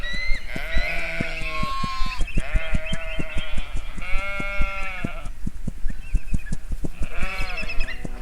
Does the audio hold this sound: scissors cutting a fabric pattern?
no